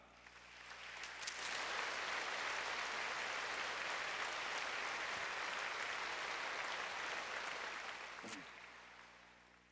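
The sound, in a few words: church congregation applauding to welcome a missionary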